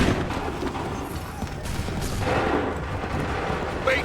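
A cannon volley in the video game Assassin's Creed III, heavy overlapping booms and rumbling blasts rolling through a noisy battle scene for several seconds, loud and continuous.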